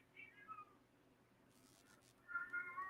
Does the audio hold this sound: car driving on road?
no